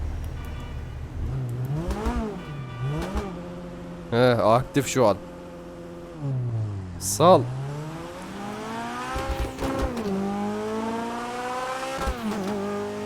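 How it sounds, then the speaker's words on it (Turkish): A car in the GTA 5 driving game fitted with launch control revs up and launches from a standstill, the engine climbing through repeated high rises and shifts with brief tire noise, loud and close, while someone talks over it. "Bak launch kontrolümüz de var abi. Şuradan bir kalkış yapalım."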